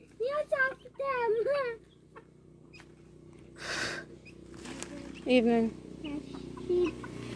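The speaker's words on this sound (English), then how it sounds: "That's a rooster." Free-range farm chickens, including a rooster, cluck in short bursts close by at feeding time, with people talking throughout.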